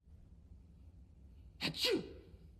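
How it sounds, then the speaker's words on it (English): A single sharp human sneeze rising out of a quiet background with a brief breathy intake just before it, close and clear. "Achoo!"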